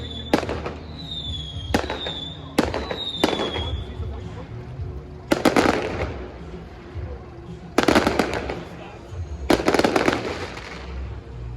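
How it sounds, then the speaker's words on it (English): A large fireworks display bursts in a rapid series of loud, sharp bangs and crackles, several whistling rockets rising before the explosions, with voices in the background. "right after the photo, these insane fireworks start going off"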